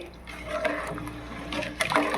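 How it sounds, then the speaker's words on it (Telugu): Water poured into a pot of rice being cooked for a Rayalaseema-style chicken biryani, a steady splashing gush with a brief brighter splash near the end, fairly close. "ఇప్పుడు ఈ నీళ్ళు ఎత్తి అందులో పోసేస్తానండి"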